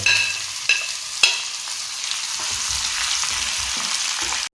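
Green chilies frying with ginger in a hot pan, a steady crackling sizzle with a couple of sharp spatters early on, close and continuous until it cuts off.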